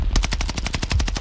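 Rapid automatic gunfire in Call of Duty Warzone, a tight burst of about a dozen evenly spaced loud shots over little more than a second, with no talking.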